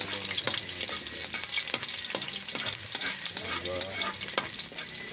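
Garlic fries in hot oil in a pan for pancit bihon, giving a steady close sizzle and crackle, with regular scraping knocks as it is stirred.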